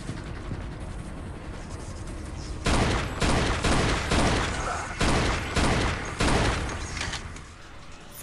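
Rapid bursts of gunfire cut in after a quiet opening, a string of loud volleys and single shots tearing through zombies in the mobile shooter Dead Trigger, with no talk over them.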